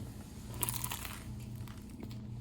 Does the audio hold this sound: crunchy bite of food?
yes